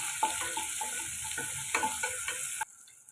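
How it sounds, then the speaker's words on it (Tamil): Onion and chili sautéing in hot oil, a continuous bright sizzle with stirring scrapes and light ticking clatter, ending abruptly as the sound cuts off near the close. "இப்போ இதை நம்ம வதக்கி விட்டுக்கலாம்."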